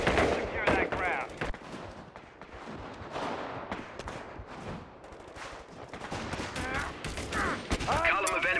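Rapid bursts of gunfire and machine-gun fire from a Company of Heroes 3 skirmish with US forces, dense and continuous across the whole stretch, with shouted voices and game speech mixed in.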